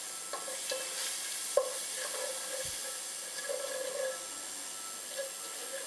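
Turmeric fries in a pan for a Réunion curry, giving an even, soft sizzling hiss throughout with a few faint stirring clicks and one brief sharp tick.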